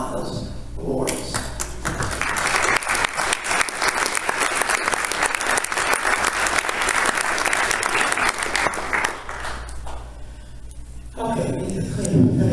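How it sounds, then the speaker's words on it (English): Audience applause for award recipients at a space science talk, building after a couple of seconds into loud sustained clapping for about eight seconds before tapering, with speech briefly heard at the start and end. "so you ask you all to clap because you were the people who actually got those awards"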